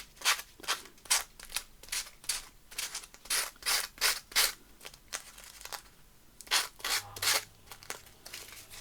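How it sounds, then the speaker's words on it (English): Excess tissue paper being rubbed and torn away from the edges of a journaling card, a series of quick rhythmic scratchy strokes in bursts, close and clear with no talking. "So it's quite a quick way to get all your excess tissue off, and it's a very neat way."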